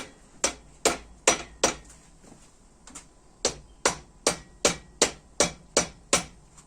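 A rubber hammer strikes the ends of a crankshaft on a 420A engine about a dozen times in a steady rhythm, each blow a sharp close knock, with a brief pause partway through.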